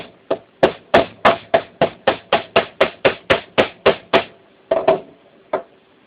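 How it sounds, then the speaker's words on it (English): Sharp metallic pin hammer taps driving a short shaft through a gear, about sixteen strikes in a steady rhythm, close and loud, followed after a short pause by a couple more taps. "tap the shaft just a little further through the gear"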